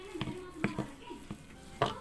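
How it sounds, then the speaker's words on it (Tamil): Eggless red velvet biscuit dough is stirred in a bowl, giving several sharp, irregular scraping and tapping strokes of a spoon over a low background hum, close by and without speech. "நல்லா மிக்ஸ் பண்ணிகிட்டே வாங்க"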